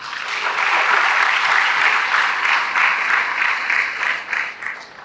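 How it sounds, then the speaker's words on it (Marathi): A college audience at a first-year student welcome gathering gives steady applause for an award-winning student, thick continuous clapping that holds strong and then thins toward the end. "त्यांच्यासाठी आपण एकदा टाळ्या वाजवूया."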